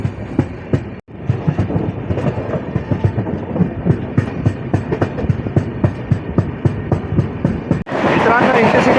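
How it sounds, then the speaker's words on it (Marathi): Amravati SF Express, train 12111, pulling away from Murtizapur station, heard from on board: steady rumbling wheel clatter with repeated rhythmic clacks over the rails, loud and close throughout, with a brief dropout near the start and end. "सध्या आमची ट्रेन आपली डिपार्ट झालेली आहे मूर्तिजापूर रेल्वे स्टेशनवरून"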